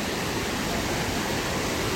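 Hogenakkal Falls in India roars in a dense, constant rush of white noise, loud and unbroken throughout.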